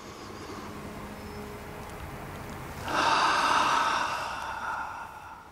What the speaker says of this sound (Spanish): Así que vamos a realizar varias respiraciones.